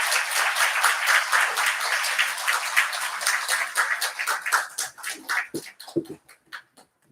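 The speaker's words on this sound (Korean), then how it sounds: "큰 박수로 나오실 때 환영해 주시기 바랍니다." A church congregation at a mission Sunday worship service claps to welcome a missionary, loud sustained applause that breaks into a few scattered, separate claps before dying away.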